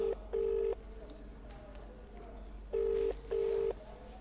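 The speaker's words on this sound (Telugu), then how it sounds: "శ్యామ్ వాళ్ళ నాన్నగారికి ఫోన్ చేస్తున్నాం." Four electronic keypad tones in two pairs, steady beeps separated by a quiet gap with faint background murmur.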